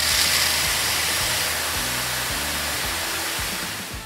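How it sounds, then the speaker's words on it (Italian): A cartoon water cannon sprays a steady, loud hiss of rushing water that holds for about four seconds and eases off slightly at the end, with soft music tones underneath. "E io userò il mio cannone d'acqua per non far alzare la polvere!"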